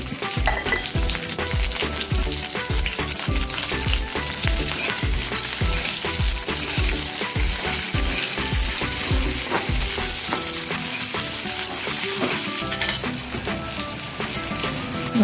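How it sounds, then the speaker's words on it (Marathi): Green chillies sautéing in a little oil for a green tomato chutney, giving a loud, dense sizzle under rhythmic low thumps and clinks of a spatula on the pan, with no voices. "मिरच्या छान परतल्यात"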